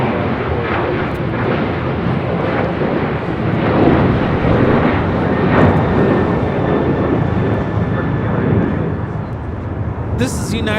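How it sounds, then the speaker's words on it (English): United Boeing 737-900ER jet taking off, a loud, steady broadband engine roar with wind rumble, sustained throughout at fairly close range. "This is United 1821 taking off to Denver, Colorado on a 737-900ER"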